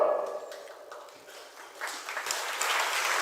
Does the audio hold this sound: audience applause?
yes